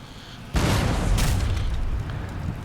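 A cannon fires in Age of Empires III during a tournament battle. A sudden heavy boom hits after a short lull and rumbles on with dense battle noise for about two seconds.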